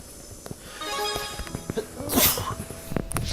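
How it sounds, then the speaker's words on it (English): A character sneezes in the video game Tales of Xillia 2, a short sharp burst over quiet game music, with faint scattered sounds around it. "Sneezing."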